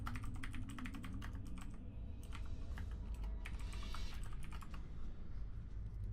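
Rapid computer keyboard typing during a Tau Empire multiplayer game session, keys clattering in quick irregular bursts up close, alone with no voices throughout.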